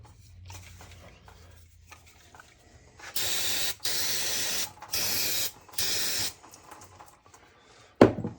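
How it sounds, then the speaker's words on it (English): Four loud hissing bursts of aerosol brake cleaner sprayed onto a floor jack with a blown hydraulic seal, each burst lasting about half a second with short gaps between them, followed by a sharp knock near the end. "need some brake cleaner here"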